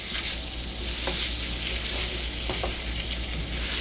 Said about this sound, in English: So the beef's going to go back in, and we're going to start to stir that around.